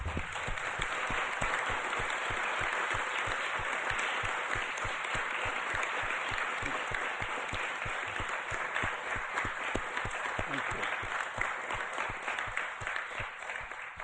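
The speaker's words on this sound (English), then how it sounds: "I think they deserve an applause" At an annual council meeting, the audience breaks into sustained applause, a dense even wash of many hands with a steady rhythmic clap running through it, lasting well over ten seconds.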